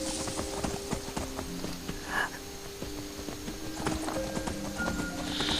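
Horse hooves clip-clopping in the Skyrim video game, a steady, moderately quiet walking rhythm of hoof beats with faint talk in the background.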